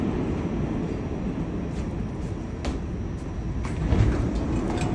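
Continuous rumbling and rattling of a New York City subway train, loud and close, with brief metallic clanks and squeals rising over the steady roar.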